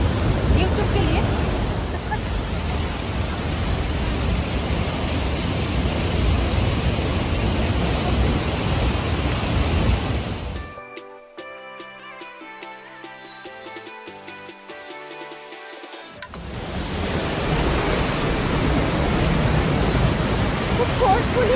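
A forceful waterfall near Bergen, Norway roars as a loud, continuous broadband rush of water, cut by a short quieter gap with tonal sound before the roar returns at full strength.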